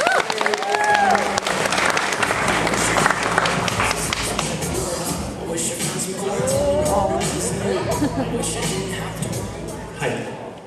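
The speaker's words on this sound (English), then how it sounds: "And round of applause for Molly." An audience at a comic convention children's masquerade claps for a young entrant's costume, dense applause mixed with crowd chatter and voices throughout.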